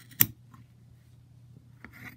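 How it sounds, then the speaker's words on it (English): Scissors cut tassels for a small 1:9 scale model horse halter, with one crisp close snip followed by quieter snips and faint rustles in a near-silent room. "the line in between is where I'm going to cut for my tassels"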